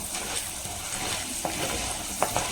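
Urad dal and chana dal fry in hot oil with a steady close sizzle, punctuated by a few light scrapes and taps as they are stirred.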